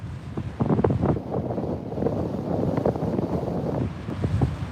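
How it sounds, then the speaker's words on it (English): Strong nor'easter wind on a New England beach in October, roaring and buffeting the microphone in continuous gusty rumbles with no voices. "That wind's picking up."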